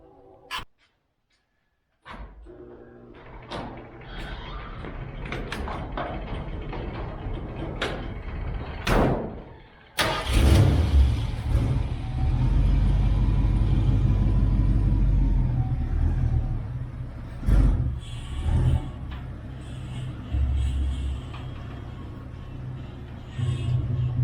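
An old Ford Ranchero, long neglected and dingy, rumbles outdoors with a door thud near the start and a louder engine surge around midway that holds steady as a low, close drone with a few sharp knocks.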